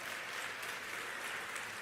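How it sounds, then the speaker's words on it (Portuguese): A church congregation claps during a worship service, producing a faint, continuous wash of applause from many hands, heard alone without speech. "Você quer aplaudir ao Senhor?"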